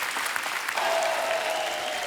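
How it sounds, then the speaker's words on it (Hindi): An audience at a comedy show claps to welcome arriving guests, dense steady applause that is loud and sustained throughout. "जोरदार तालियां हमारे मेहमानों के लिए"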